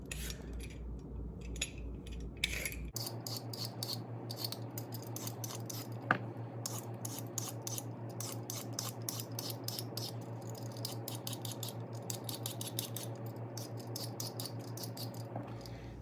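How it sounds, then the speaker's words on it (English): Rapid scraping strokes of a peeler take the outer skin off carrots for cheeseburger soup, a fast steady patter of close, crisp rasps over a constant low kitchen hum. "I'm just peeling it the same way I peeled the potato, just taking that very outer layer of skin off"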